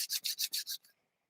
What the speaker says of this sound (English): Give your hands a generous, vigorous rub together.